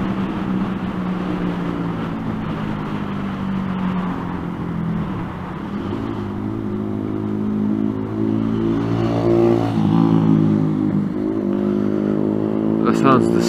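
A loud, rough vehicle engine with no exhaust drones and revs, its tone rising and falling over several seconds, close by and unmuffled.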